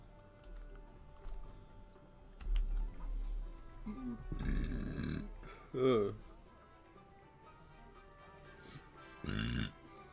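Loud, drawn-out burps after drinking a protein shake, three separate belches spaced across the stretch over a low steady game background hum, with a bit of murmured talk between them.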